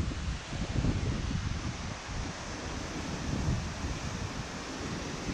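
Hopkins Falls, a waterfall near Cudgee, gives off a steady broadband roar of rushing water, heard from a distance and unchanging throughout, with no voices.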